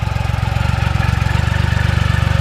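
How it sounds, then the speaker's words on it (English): A Triumph Rocket 3 motorcycle's big engine fires into life and settles into a loud, steady, rapidly pulsing idle, close by with no talk. "that's a Rocket 3 firing into life"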